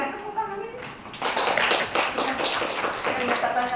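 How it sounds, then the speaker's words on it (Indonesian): An audience at an Aceh culture seminar starts clapping after about a second, and the steady applause continues to the end, with a speaking voice underneath before and during it. "boleh tepuk tangan ini"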